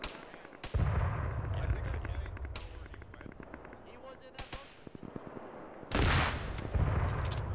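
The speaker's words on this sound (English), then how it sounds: "Alpha Vic, you're getting hit by enemy cannon fire." Enemy cannon fire in a war video game: heavy booming blasts strike near the start and again near the end, with sharper cracks and battlefield noise between them and voices talking over the action.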